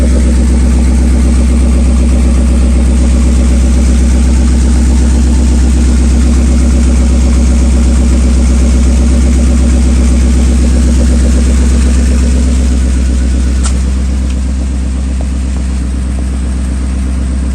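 A Ford Super Duty truck engine idles as it warms up, producing a loud, steady low drone that holds unbroken for the whole stretch, with no voices.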